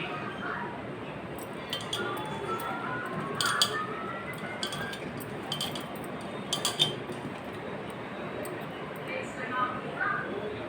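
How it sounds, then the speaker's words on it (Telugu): A dish being mixed with a spoon after garlic paste goes in: light clinks and soft squishy scrapes against a bowl, intermittent and close but quiet, under a low room hum, with a person talking. "మొత్తం వేసిన తర్వాత ఇప్పుడు మనం దీన్ని కలుపుకోవాలి"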